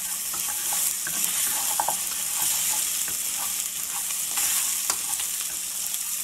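Meat for Paya soup sizzles and fries in hot oil in a pan while a utensil stirs it, a close, steady crackle punctuated by scattered scraping and clinking taps.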